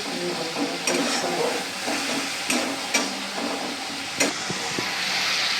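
Garlic and onion paste sizzles steadily in a pan, with a few sharp clinks and scrapes as a ladle stirs it, close and fairly loud throughout.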